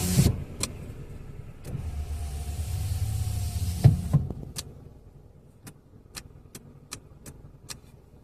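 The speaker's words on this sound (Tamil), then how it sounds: "ஏன் அந்த இன்ஜின்லேயும் நாய்ஸ் கொஞ்சம் டிஃப்ரெண்ட் ஆகுது" An idling car with a power window motor whirring for a few seconds, followed by a thunk and a quiet engine hum with evenly spaced ticking clicks, close and fairly faint.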